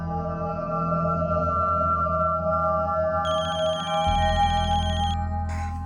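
A telephone rings repeatedly in a home during a family meal, its steady electronic ringtone sounding loud and close over a sustained musical background, with no talking.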